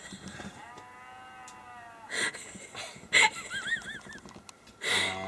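Sheep bleat in a field near Ingleton, Yorkshire: a long wavering call, then several shorter, shakier bleats, fairly close, over faint outdoor background.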